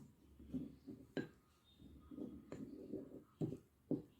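A spoon mixes gram flour, rice flour, lemon juice and milk in a bowl, giving several sharp clinks against the rim spaced between softer scraping strokes, close and quiet, with no talk.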